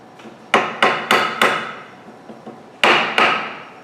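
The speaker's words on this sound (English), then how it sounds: "If you can't get it off, use a hammer." A hammer knocks apart a wooden decorated box, with four sharp strikes in quick succession, a pause with a couple of faint taps, then two more loud blows, close and alone with no talk.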